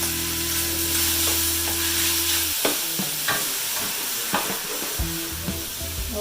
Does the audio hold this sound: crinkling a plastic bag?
no